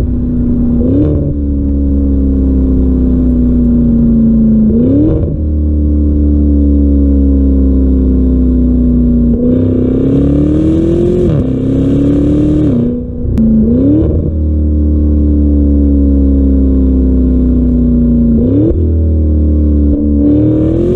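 The 580-horsepower V8 of a Maserati Levante V8 Ultima SUV revs again and again, each loud, close climb rising through the gears with brief dips between, a continuous deep roar from inside the cabin.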